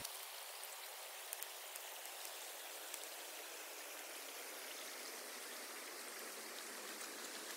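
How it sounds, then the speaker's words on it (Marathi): Clams are rinsed clean in water at a solo camping spot, giving a steady, close splashing and trickling wash that runs without a break and with no voices. "तर ते आपण आहे ना आता पाण्यामध्ये स्वच्छ धुवून घेऊ."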